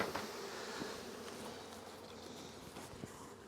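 Honey bees buzzing around an open hive during a heavy nectar flow, a steady dense hum close by with no speech.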